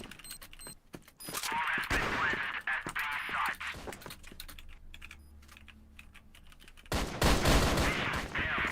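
Rapid bursts of gunfire and sharp shots in a competitive CrossFire esports match, including a sniper kill, crackling loudly and near with dense clatter, briefly easing before another heavy volley near the end.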